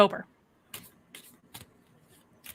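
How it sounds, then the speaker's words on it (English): A brief voice at the start, then tarot cards shuffled in several short, crisp riffling bursts separated by quiet pauses. "going to stop shuffling."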